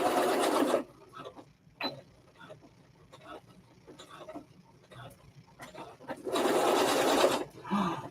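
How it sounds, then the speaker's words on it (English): A sewing machine runs in two loud bursts, one at the start and a longer one near the end, with quiet handling noise and faint voices between them while fabric is stitched on. "I managed to sew that on before I had to rethread the bobbin."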